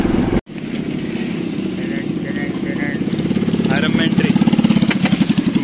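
Motorcycle engine in the mobile game BGMI, a steady buzzing drone that swells and grows slightly louder and more pulsing toward the end, with voices talking over it and a brief dropout near the start.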